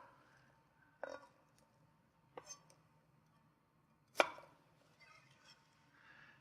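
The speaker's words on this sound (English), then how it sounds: "I'm going to cut inch-thick slices, turn it inch-thick slices" A knife cuts inch-thick slices through what appears to be an onion on a board. Three distinct chops land sharp and close in a quiet room, with softer board contact afterward.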